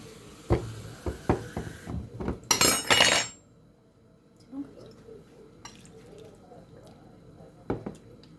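Flour and cold water being mixed in a bowl for Moroccan harira: scattered clinks and drips, then a brief loud gush of pouring liquid, followed by quieter faint tapping.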